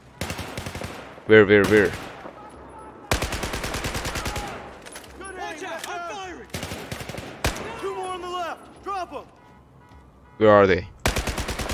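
Bursts of machine-gun fire in the Battlefield 4 video game, several loud rapid volleys separated by pauses, close and punchy, with voices talking in between.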